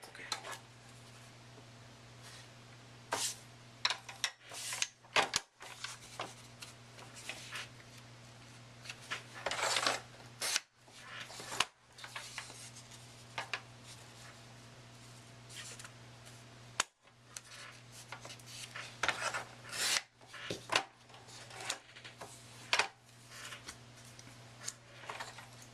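Scissors snip paper into small strips for a handmade Father's Day card: a quiet, close, irregular run of crisp cuts and paper rustles over a steady low hum.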